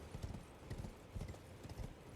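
Hooves clip-clop in a fast, galloping rhythm, quiet and steady, with no voices over them, from a horse in the video game Elden Ring.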